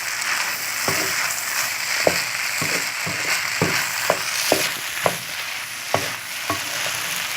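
Noodles with chicken, egg, spices and other ingredients are stirred in a sizzling frying pan, with a steady fry hiss under repeated sharp scrapes and clacks of the utensil against the pan.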